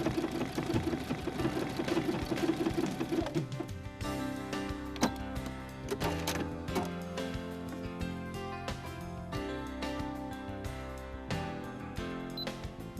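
A Brother ULT / Baby Lock Ellageo embroidery sewing machine stitches a decorative stitch pattern, its steady mechanical stitching mixed under continuous background music with no speech.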